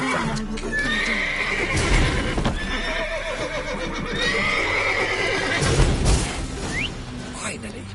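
Horses in The Witcher 3 whinny and neigh repeatedly over clopping hooves, loud and close, while a voice talks through much of the scene.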